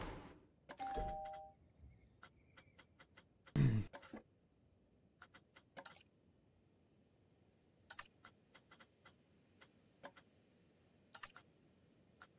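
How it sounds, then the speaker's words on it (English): A doorbell chimes once in a theme-park building game, followed by scattered sharp clicks and ticks like keyboard or mouse taps in an otherwise quiet room. "There's a doorbell."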